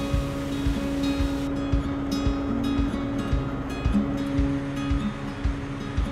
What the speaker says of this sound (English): an additional diesel generator is to be started for additional power.